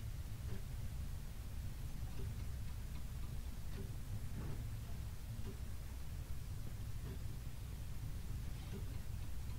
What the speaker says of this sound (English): I hate that damn clock. It's so loud.